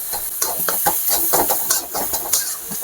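Boiled peas frying with spices in a pan for Bihar-style matar kachori, a steady close sizzle and hiss with small crackles and pops running throughout.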